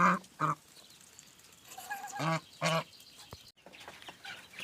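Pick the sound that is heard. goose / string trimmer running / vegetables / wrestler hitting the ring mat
goose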